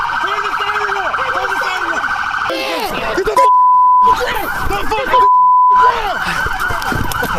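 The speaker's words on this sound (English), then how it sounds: "Turn the sirens off!" Police car sirens wail loudly and continuously through the scene, with two steady electronic tones cutting in briefly, while people shout over them during a traffic stop.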